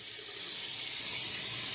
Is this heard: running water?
yes